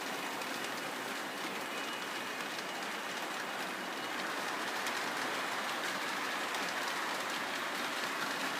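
A model train rolls past on a layout track fitted with infrared signals and crossing gates, giving a steady, close, even rumble of running wheels that holds throughout with no gaps.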